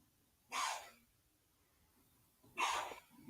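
Two distinct sneezes about two seconds apart, each a sharp breathy burst, heard close and alone in a quiet room.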